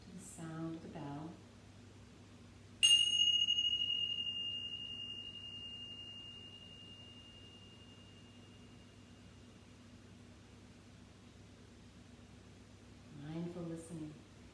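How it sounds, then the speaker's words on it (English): A pair of tingsha bells is struck once, giving a bright, piercing metallic ring that sustains and slowly fades over about ten seconds in a quiet room, with a little speech before and after. "I'm going to ring these bells called tingsha's. Just listen to the sound of the bell."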